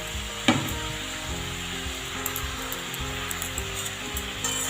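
Spinach cut into fairly thick pieces drops into a hot pan for a Bengali mustard spinach dish, giving a steady, close broadband frying sizzle with a brief burst at the start and light clatter throughout.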